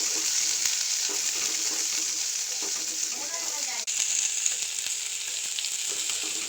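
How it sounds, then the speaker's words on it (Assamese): Chopped onions sizzle steadily in a hot pan while being stirred, a continuous close frying hiss with occasional scraping of the spoon. "এতিয়া পিঁয়াজ দিছোঁ। ভালদৰে লৰাই দিছোঁ।"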